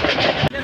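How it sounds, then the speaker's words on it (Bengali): The Kalni Express travels at speed between Bhairab and Narsingdi, giving a dense, steady rolling roar of rail noise with a brief dip just before the end. "আর ট্রেন প্রচণ্ড গতিতে সামনের দিকে এগিয়ে চলছে"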